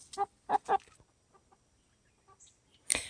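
Chickens in a garden cluck in a quick cluster of loud, close calls, then softer scattered clucks, ending with a sharp bright squawk.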